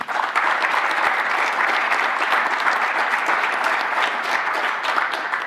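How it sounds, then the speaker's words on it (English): A live audience at a startup challenge claps for five finalists, sustained, even applause filling the room for the whole stretch with no pauses and no speech over it. "I hope we can give all 5 finalists a round of applause."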